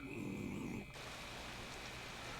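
Steady rain falling in a video game scene, a dense, even hiss that holds throughout, with a heavier low rumble in the first second before it thins out.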